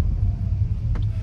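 A Chevy Volt accelerating at full throttle in sport mode with its wheels spinning makes a deep, loud, continuous rumble, heard up close from inside the car.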